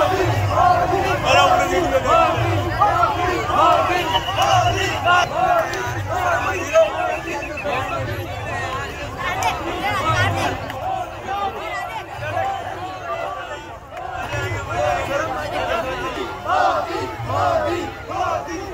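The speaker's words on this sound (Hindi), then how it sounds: "भीड़ ने मोदी मोदी के नारे लगाने शुरू कर दिए।" A large outdoor crowd chants political slogans in a steady, rhythmic call, many voices loud and continuous with general hubbub underneath.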